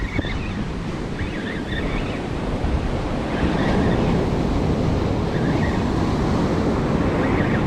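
Ocean waves wash and roll steadily at sea during a morning salmon fishing trip, with broad continuous surf noise and wind buffeting the microphone throughout, no voices.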